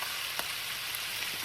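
Peppers fry in a hot pan for spicy pigtails, making a steady, even sizzle with scattered small pops, and no voices are heard.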